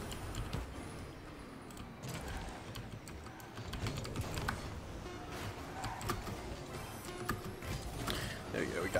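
Computer keyboard typing during Rocket League gameplay, a steady stream of clicks and key taps mixed with game sounds and a voice talking throughout.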